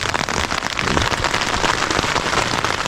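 Heavy rain pours steadily onto a surface, a dense, continuous hiss and patter without any talking.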